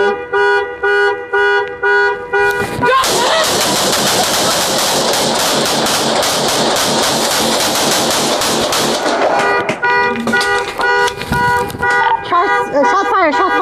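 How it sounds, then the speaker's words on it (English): Gunshots fired during a police encounter, a loud dense burst of rapid shots lasting several seconds, surrounded by blaring car horn or alarm tones and shouting voices. "Shots fired, shots fired."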